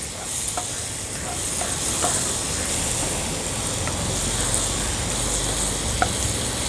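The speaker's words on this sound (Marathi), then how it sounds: "हा मोठ्या साईजचा एक टोमॅटो घेतलाय बारीक चिरून तो ॲड करूया तो देखील व्यवस्थित आपल्याला ह्या मसाल्यांसोबतच परतून घ्यायचा आहे" A large, finely chopped tomato sautés with spices in a pan for a Rajasthani-style fresh turmeric vegetable dish, a loud, continuous close sizzle with occasional light taps from stirring.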